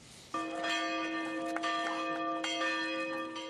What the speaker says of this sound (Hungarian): Szakadó hóesés és harangszó fogadta Alekszandr Vucicot szombat reggel Koszovóban.